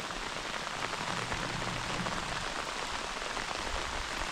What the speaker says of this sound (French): Il pleut un peu beaucoup.